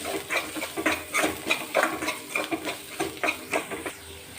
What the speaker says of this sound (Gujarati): અને ત્યારબાદ આપણે સ્વાદ પ્રમાણે નિમક એડ કરીશું અને સારી રીતે મિક્સ કરી લઈશું